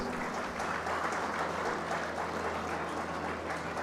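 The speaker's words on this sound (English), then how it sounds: "A big round of applause for all the jury members" A steady wash of applause from a sizable crowd at a hackathon valedictory ceremony, continuous and fairly loud throughout.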